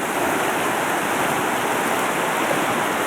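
Small stream tumbling over a rapid, a close, steady broadband rush of water holding constant without pause, with no voices present.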